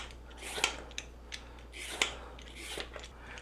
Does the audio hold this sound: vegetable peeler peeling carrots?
yes